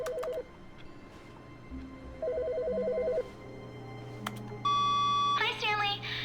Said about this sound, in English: Whose phone is ringing?